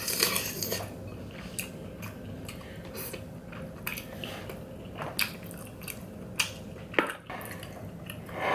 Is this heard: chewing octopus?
yes